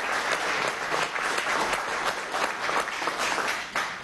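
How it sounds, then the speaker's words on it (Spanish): Sustained applause from an audience at a Venezuelan council of ministers meeting, steady and dense throughout with no break, loud and close with no speech over it. "Ahí está el compañero Héctor Rodríguez, pide un aplauso para él"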